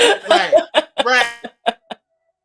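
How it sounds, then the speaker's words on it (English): A close burst of coughing, several rough, voiced hacks in quick succession that taper into a few short, softer coughs before falling silent. "So I had to cough."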